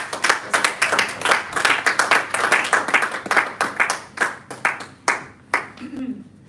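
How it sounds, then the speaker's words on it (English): An audience at a Toastmasters club meeting in a Lagos hotel gives a round of applause: brisk, close clapping from a modest group that thins into a few scattered claps before a voice begins at the end. "So with a round of applause."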